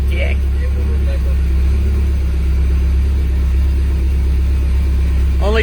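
A Pontiac Fiero GT with a swapped Honda K24 engine idling after its first start, a steady low hum and rumble held throughout while people talk over it.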